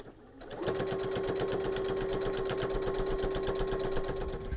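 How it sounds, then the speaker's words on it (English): Sewing machine stitching through thick layered fabric, a fast steady mechanical clatter with a tonal motor whine, close and continuous after a brief quiet start. "Let's move our needle over a bit and give it a good sew."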